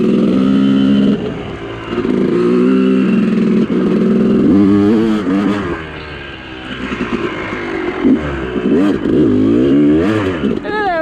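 Off-road vehicle wheels spinning in deep mud, engine revving hard and loud with rising and falling pitch, slipping and sliding, while excited voices talk over it.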